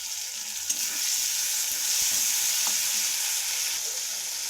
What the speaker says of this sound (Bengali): এবার আমি এর মধ্যে দিয়ে দেবো টমেটো কুচি